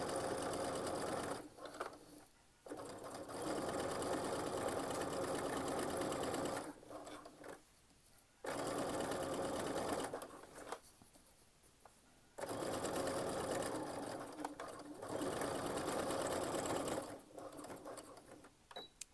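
A sewing machine back stitches over a seam while sewing a fabric wine bottle gift bag, running in several steady whirring bursts separated by short pauses.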